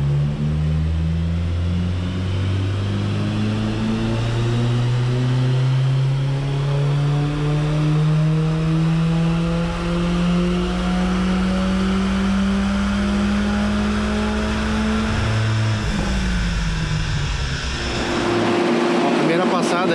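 Audi A3 Turbo engine accelerating hard on a run with closed-loop tuning switched off, rising harmonic drone climbing steadily through the gears, loud and close, with a shift near the end and speech faintly in the background.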